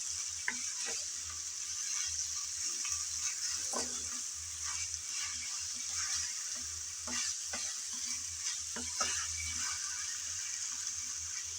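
Spicy shrimp fry sautés in a pan with a continuous soft sizzle, punctuated by repeated quiet scrapes and taps of a spatula as it is stirred.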